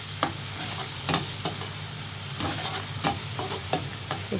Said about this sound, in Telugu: మష్రూమ్స్ ఇవి వేసుకుని కొద్దిగా ఫ్రై చేసుకోవాలి